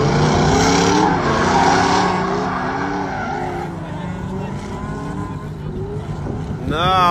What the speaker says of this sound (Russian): вот так вот пацаны и газуют